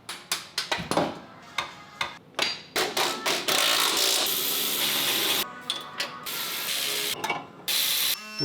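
Floor jack ratcheting up under a crashed 2010 Honda Accord in a garage, a rapid series of sharp metallic clicks and clacks followed by a steadier grinding stretch, close and fairly loud.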